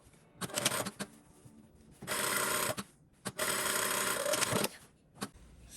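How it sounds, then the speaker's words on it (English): A sewing machine stitches the side seams of a bustier dress in two sustained runs of rapid whirring, each preceded by short bursts and clicks, close and moderately loud with quiet pauses between. "align the side seams, and sew them together at 1 centimeter for you."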